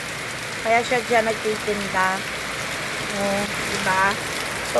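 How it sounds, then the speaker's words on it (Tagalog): Heavy rain pours steadily in a dense, loud hiss that continues without a break, while a person speaks briefly over it in short phrases. "ang lakas na ng ulan"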